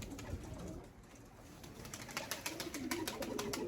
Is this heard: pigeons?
yes